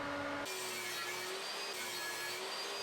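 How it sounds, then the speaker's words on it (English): A table saw set to a 45-degree bevel whines steadily through a wood panel, a continuous high, gritty cutting hiss with no talk, shifting slightly in pitch as the blade works. "Then I set up the table saw to cut at a 45-degree angle."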